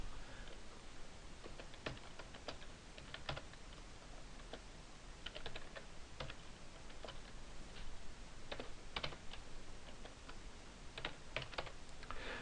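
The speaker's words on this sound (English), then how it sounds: "I put the cursor in there, and I just start to type." Someone typing on a computer keyboard, a quiet, close, irregular patter of key clicks with short bursts and pauses, heard alone.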